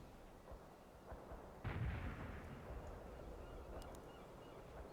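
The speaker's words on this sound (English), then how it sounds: "The barrage is on the way." Artillery barrage in the World in Conflict strategy game: a heavy low rumble with a sharp boom about a third of the way in, then sustained dense roar and faint distant crackles.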